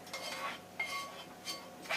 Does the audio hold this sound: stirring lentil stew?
yes